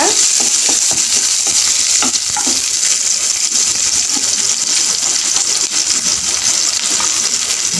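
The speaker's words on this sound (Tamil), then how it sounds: "ஒரு பெரிய சைஸ் ஆனியனை பெரிய வெங்காயம் நல்லா கட் பண்ணி இதில் போட்டுக்கலாம். நல்லா வதக்குங்க." Big chopped onion frying on a hot tawa for soyabean 65, a loud steady sizzle with stirring scrapes and clicks running throughout, no voices.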